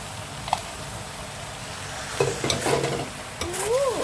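Minced pork and eggplant stir-fry in a hot pan as basil leaves go in, with a steady sizzle broken by scraping spatula strokes and a few squeaky scrapes near the end.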